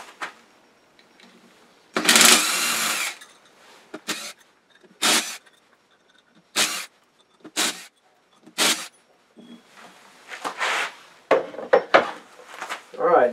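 Jaws on a wood lathe chuck are swapped for a larger set: a run of separate metallic clanks, scrapes and knocks, loud and close, spaced by quiet gaps.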